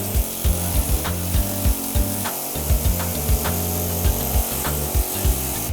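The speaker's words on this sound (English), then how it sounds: "He's using an air hammer with the metal tip." A pneumatic air hammer fitted with a metal tip cuts apart the body of a 1968 Dodge Charger R/T, giving a loud, steady chatter broken by a series of sharp metallic bursts and pauses.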